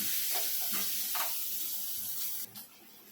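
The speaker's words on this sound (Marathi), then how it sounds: "आता मी कांदा टाकणार आहे कांदा लाल होईपर्यंत भाजायचा आहे" Onion frying in hot oil with garlic sizzles steadily and close, with a few soft stirring scrapes, before the hiss drops sharply near the end.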